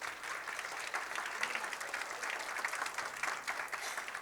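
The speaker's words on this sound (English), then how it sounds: "let's give them another round of applause." An audience at a healthcare innovation event claps steadily throughout, a dense, even round of applause heard from within the room with no talk over it.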